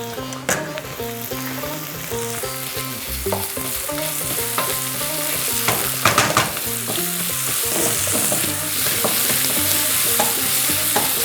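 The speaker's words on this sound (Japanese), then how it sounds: "さあ炒めるとですね、より香りが出ますね" Yellow curry paste and vegetables are stir-fried in a hot pan, giving a lively sizzle with scraping and tossing of a utensil that grows steadily louder. Gentle music plays underneath.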